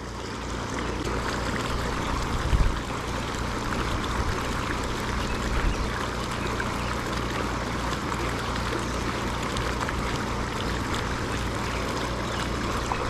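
Water running from a pond outlet pipe alongside an aerator, a constant soft rushing and trickling wash heard steadily throughout at low level, with a couple of faint bumps.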